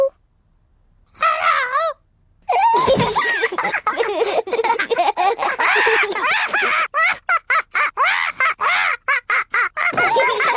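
A cartoon parrot squawks in a rapid string of loud, close, high-pitched chirps and caws, with short gaps and a brief pause near the start, alone in the foreground.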